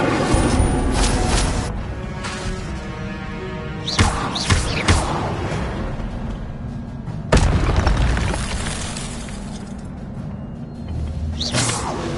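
Incendio fire spell from Hogwarts Legacy bursting with deep booming thuds, sharp blasts near four and seven seconds over a steady rumbling game backdrop.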